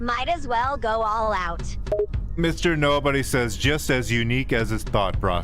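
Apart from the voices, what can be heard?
None of the usual background noises is heard.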